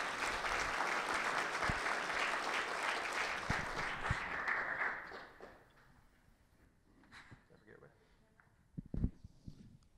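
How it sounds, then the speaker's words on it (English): An audience claps at a state House of Delegates tour stop in Clarksburg, with dense, fairly loud applause that fades out after about five seconds, leaving scattered thumps and quiet room noise. "Let's give them a round of applause for making the trek up here today."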